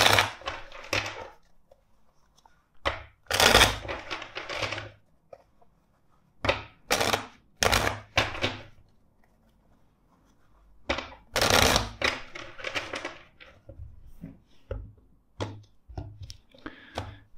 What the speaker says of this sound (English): Let's first shuffle the deck four times for you.